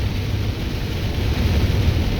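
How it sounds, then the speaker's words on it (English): Steady rain picking up outdoors, a dense, even hiss of falling water with low rumbling underneath, continuous and fairly loud across the short stretch with no voices. "Look at the rain picking up"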